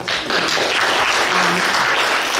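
Audience applause fills a school committee candidate forum, a dense, steady wash of many hands clapping at once, loud and sustained throughout.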